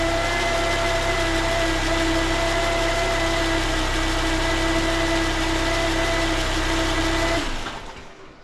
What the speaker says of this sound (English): And when you plug it back in, that whining sound should return.